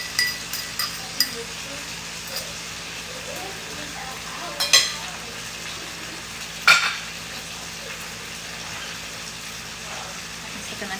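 Onion sautéing with mushrooms in a cast iron skillet gives a low, steady sizzle, broken by a few sharp utensil clinks and scrapes against the pan.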